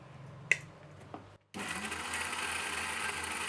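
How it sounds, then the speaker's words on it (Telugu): After a few soft clicks and knocks, a mixer grinder whirs into a steady, loud grinding of peanut chutney with onion that continues to the end. "ఎర్రగడ్డ కూడా కచ్చా పచ్చాని ఏం లేదండి, కొంచెం మిక్సీ పడుతున్నాము"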